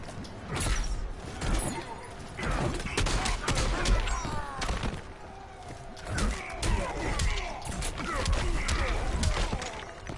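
Deadshot fires a machine gun in the fighting video game Injustice 2, loud rapid bursts of gunfire repeating without pause, layered with sharp impact cracks and clattering effects.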